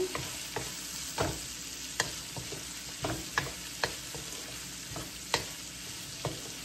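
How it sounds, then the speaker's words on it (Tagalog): Pancit miki noodles are stirred in a sizzling pan, with a steady frying hiss and regular scraping knocks of the spoon repeating every half second or so, close and clear. "Haluin na natin."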